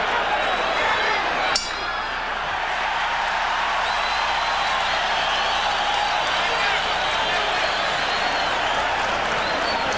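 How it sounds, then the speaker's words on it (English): A dense, loud crowd roars and applauds continuously at a boxing match between Julio Cesar Chavez and Meldrick Taylor, with a sharp clink early on and no talk over it. "And the crowd begins to heat up as Julio Cesar Chavez turns up the pressure."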